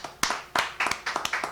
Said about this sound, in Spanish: vamos a aplaudir a nuestra invitada